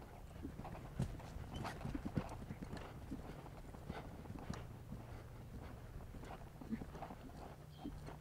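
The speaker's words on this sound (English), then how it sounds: "So I do it on a small collected canter, nice in the middle." Hooves of a somewhat spooky horse at a small, collected canter in an arena, drumming steadily with repeated clip-clop beats, with a faint snort or whinny now and then.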